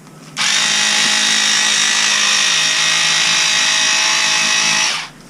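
A power tool buzzes steadily through a piece of 450 GSM triaxial fibreglass cloth, one continuous loud cut of about five seconds that starts and stops abruptly, with no talking.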